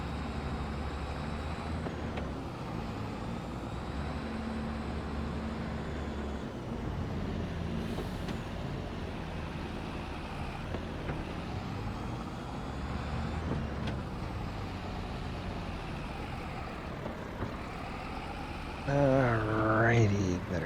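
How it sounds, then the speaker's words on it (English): Farming Simulator 25 tractor engine labouring up a hill while pulling a loaded trailer, a steady low drone that holds for about twenty seconds and rises into a louder, rougher burst near the end. "Boy, that's a hard grunt up that hill."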